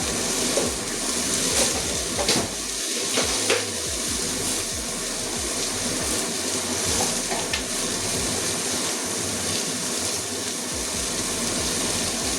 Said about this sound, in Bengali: মশলা পুড়ে যাচ্ছে, একটা টমেটো কুচি দিয়ে দিলাম। ভালো করে কষিয়ে নেবো।